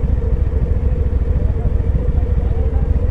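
A steady, loud engine rumble with a fast throbbing pulse, close by, as motorcycles pass on the road during an offroad motorcycle ride.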